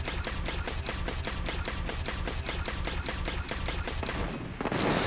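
A weapon in the video game Destiny fires rapidly in a steady automatic rhythm of evenly spaced, loud shots that continue for several seconds before stopping abruptly.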